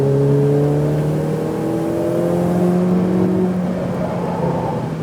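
A Ferrari 488 Pista accelerates hard on a race track, its engine note climbing steadily in pitch through the gears, loud and close throughout, with no talk over it.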